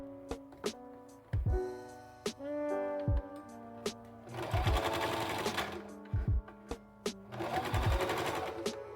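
A sewing machine runs in short stops and starts, then longer bursts, while sewing bloomers, close and clear, with light clicks between stretches of stitching.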